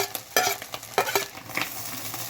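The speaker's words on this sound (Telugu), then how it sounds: "మంచిగా ఫ్రై అయినాక అందులో మనం ఫస్ట్ దంచి ఉంచుకున్నాం ఎల్లిపాయ జీలకర్ర వేసుకోవాలి" Crushed garlic and cumin hitting hot oil, a loud close sizzle with several quick spatula scrapes and taps against the pan.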